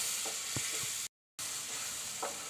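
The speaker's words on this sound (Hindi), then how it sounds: "और इस सारे मसाले को मुझे अच्छी तरह से अब भूनना है।" A spice masala with turmeric and coriander fries in a pan with a steady, close sizzle, broken by a few soft spoon scrapes and a short silent gap midway.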